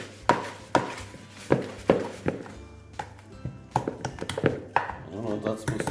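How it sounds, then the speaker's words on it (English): Cake batter for a barbecue-baked cake gets mixed by hand, with a series of close, regular thuds and taps of the utensil against the bowl, quickening into a busier patter of knocks toward the end. "next thing we'll have to do now is get all this mixed through and together"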